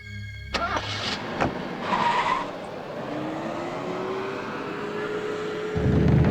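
A car pulls up and comes to a stop, its engine running steadily close by with a brief tire skid and a rising whine, loud and unbroken, with no talking.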